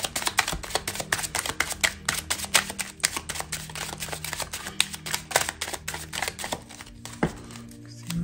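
Tarot cards shuffled by hand at close range, a dense run of quick papery riffles and soft slaps with a brief sharper snap near the end, no talk over it.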